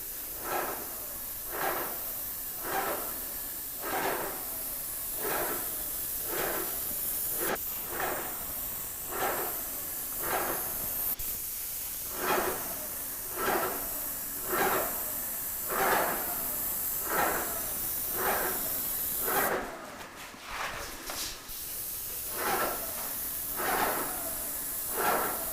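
A spray gun lays a light coat of paint with repeated short hissing bursts in a steady rhythm over a constant background hiss, close and moderately loud, with a brief clatter partway through.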